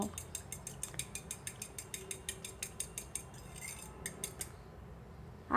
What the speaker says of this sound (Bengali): ডিমে একটু লবণ আর সামান্য গোলমরিচ গুঁড়ো দিয়ে একটু মিশিয়ে নিব